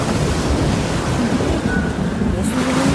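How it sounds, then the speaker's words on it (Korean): Storm waves surge against and into a boat in strong, frightening wind, making a steady, loud roar of churning water and gusts that lasts the whole time, with no pauses and no voices. "매우 강하고 무서운 바람이 불어 파도가 배 안으로 덮쳐 들어왔고"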